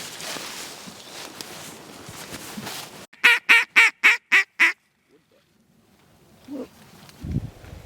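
Ducks quack during a waterfowl hunt in Nebraska: five sharp, loud quacks come close in quick, even succession. Soft rustling comes before them and near silence after, then a few faint noises.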